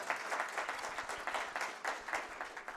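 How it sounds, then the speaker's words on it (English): Audience applause at a lecture on structural inequality, a moderate crowd clapping in steady bursts, fairly soft and continuous for a few seconds. "Would you give them all a round of applause?"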